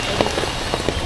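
Heavy rain pours down on a roadside food stall selling turkey noodles outside a school, a steady close hiss of downpour with scattered patters and drips and no voices.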